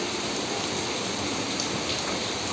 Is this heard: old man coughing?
no